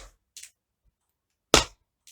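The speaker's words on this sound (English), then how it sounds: "push against the floor with your heel. Okay, should make a kind of scrape sound." Tap shoe heel scuffs scraping a floor during a beginner tap lesson: a few short, sharp scrapes separated by silence, one louder and fuller than the rest, recorded close.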